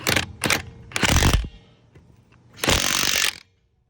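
A DeWalt DCF891 impact wrench tightens a fastener in several bursts. Two quick short hammering bursts are followed by a longer run and, after a pause, a final sustained rattling burst, all close and loud.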